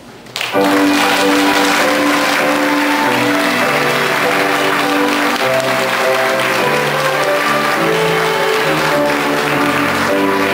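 Wedding guests applaud steadily as the groom enters, a loud, dense wash of clapping that starts abruptly and continues throughout, with music-like tonal layers beneath.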